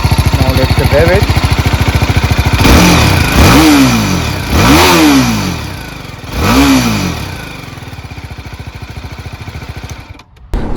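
A BMW G310 GS motorcycle engine idling, then revved sharply three times, each rev rising and falling quickly, before settling back to a steady idle; close and loud.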